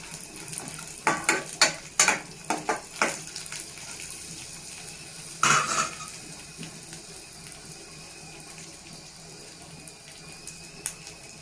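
Garlic and peanuts are stirred in a frying pan for a peanut chutney. A quick run of rattling, scraping spatula strokes comes first, then one more clatter, before the clip settles into a faint background.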